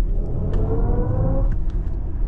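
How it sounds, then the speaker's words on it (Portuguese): BMW iX 50 electric car in sport mode, producing a synthetic sports-car roar: a continuous, fairly loud engine-like rumble with a rising tone while the car drives. "Fica muito mais parecendo com o ronco de um carro esportivo, né?"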